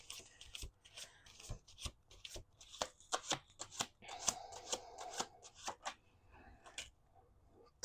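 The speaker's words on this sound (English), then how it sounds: "Let's do 2 more shuffles." Tarot cards being shuffled by hand, a run of crisp riffling and slapping bursts with brief pauses between them, close and fairly quiet, with no talking.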